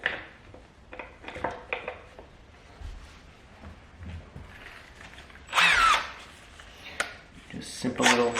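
A small handheld drill drives screws while reassembling a pool pump during an impeller replacement, with short whirring bursts between quiet clicks and handling noises and one louder, longer run near the end.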